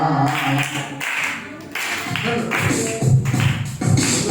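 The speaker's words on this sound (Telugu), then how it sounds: "చప్పట్లు కొంచెం తగ్గించండి" A congregation claps along during a prayer song, steady rhythmic hand claps under singing voices with a few brief dips in the beat.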